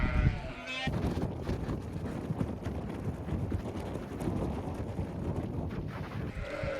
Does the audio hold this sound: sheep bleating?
yes